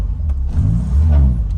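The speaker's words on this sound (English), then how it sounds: "absolutely the trombone noise from the exhaust" A low, throaty exhaust drone from an old car engine, rising and falling in a brassy rumble, close and loud with no voices.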